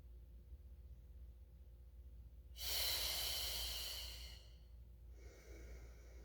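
A single long, breathy exhale during a Pilates mat class, a soft airy rush lasting over a second, then a fainter breath after it, quiet and close with no speech.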